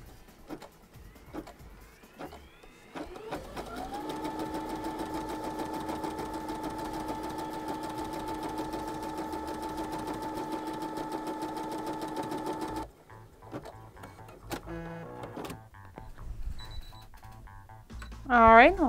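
A sewing machine fitted with a Big Foot darning presser foot stitches in a long, fast, steady mechanical whir lasting about ten seconds, framed by softer handling clicks before and after.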